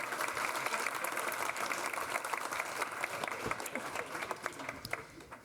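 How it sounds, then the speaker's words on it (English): Steady crowd applause for panellists taking their seats at an autumn charity celebration, many hands clapping evenly at moderate volume and tapering slightly near the end. "Give them a round of applause"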